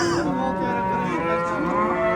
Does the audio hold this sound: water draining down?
no